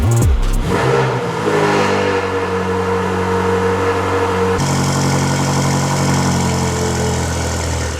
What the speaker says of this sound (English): I've just broken the engine in on the dyno and we're ready to do some hits in it.